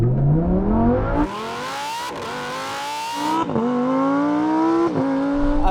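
A Lamborghini Huracan Performante and an SUV accelerating hard from a rolling start in first gear, engines climbing in pitch with several sharp gear-change dips, loud and close throughout.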